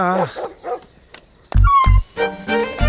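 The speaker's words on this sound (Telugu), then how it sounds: "కుక్క" A dog barks a few times in short, loud bursts, with a person calling out just before.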